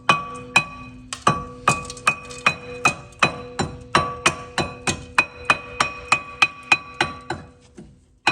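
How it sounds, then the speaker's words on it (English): Rust is being chipped off a VW Golf MK7 front brake disc with a tool: about twenty sharp, ringing metallic taps follow one another in a fairly regular rhythm, close and distinct. "just chip off the rust from all around the disc"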